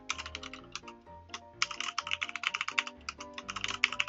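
Close, crisp clicks of a computer keyboard as a password is entered, keys struck in quick uneven bursts with short pauses and a faint tonal hum underneath.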